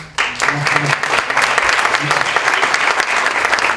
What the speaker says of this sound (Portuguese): Gostaria de dar salve de palmas